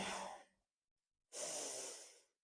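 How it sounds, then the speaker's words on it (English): Two slow, deep breaths during calm yoga practice, a soft airy exhale fading out, a pause of near silence, then another long breath that swells and trails away, close and quiet with no talking. "And a full breath out"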